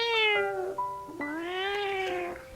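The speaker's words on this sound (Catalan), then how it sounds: "va aparèixer un gat" A cat meows twice as a sound effect in a children's fairy tale, two long, clear, tonal calls rising and falling, close and alone with no talking.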